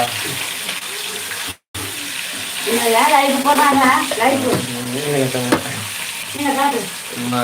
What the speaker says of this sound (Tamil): மீன் பொறிச்சுக்கிட்டு இருக்காங்க மீன் பொறி அடுப்பில் கிடக்கு பாருங்க